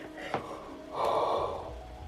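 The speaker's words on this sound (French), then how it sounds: "faut que je baille" A woman yawns nearby with a sharp inhaled gasp followed by a drawn-out, voiced yawn, alone without speech.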